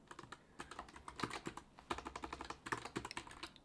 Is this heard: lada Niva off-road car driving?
no